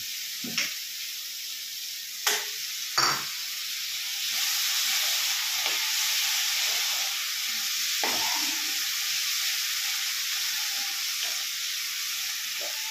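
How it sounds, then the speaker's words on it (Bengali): Curry of fried chhana balls cooking in a pan with water, a broad steady sizzle and hiss rising after a few sharp spoon knocks, with occasional stirring scrapes throughout. "জল দিয়ে কষাতে হবে।"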